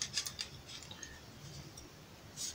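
A 5-litre plastic water jug is cut with sharp, crisp snips. A handful of quick cuts come close up at the start and again at the end, with a quiet stretch between.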